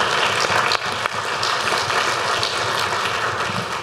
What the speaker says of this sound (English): Perhaps an applause for the interpreters here,